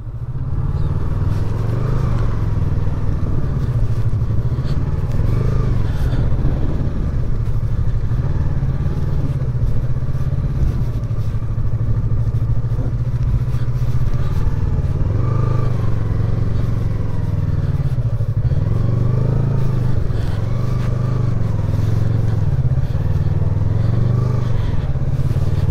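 Motorcycle riding along the rough Leh-Manali highway, a steady engine drone with shifting pitch and rattling clatter running continuously and loudly throughout.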